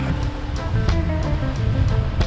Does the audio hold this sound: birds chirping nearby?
no